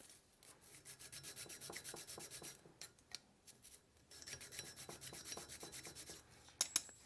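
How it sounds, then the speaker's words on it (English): A metal part being sanded smooth by hand after peening, making a steady run of rough, rhythmic rubbing strokes, close and moderately loud, with a short pause midway and no talk. "let's get the other one sanded"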